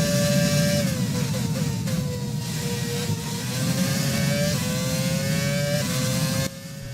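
A 2006 V8 Formula 1 car revving to 20,000 RPM in an F1 racing game, a loud, steady high-pitched engine wail with rising and falling pitch as it shifts gears, then a sudden drop in level near the end.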